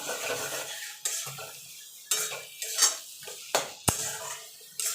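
Boiled taro leaves with a pinch of turmeric stirred in a pan, a spoon scraping and clinking against the metal in uneven strokes over a faint sizzle, close and fairly loud with no talking.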